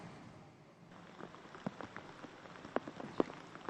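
Heavy rain pours during flooding in Paju, South Korea, a steady patter on surfaces with scattered sharper drops and splashes, fairly close and without voices.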